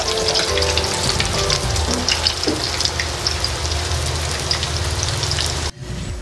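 Sweet potato (camote) fries sizzle loudly in very hot cooking oil, a dense steady crackle with bubbling that continues throughout and briefly dips near the end.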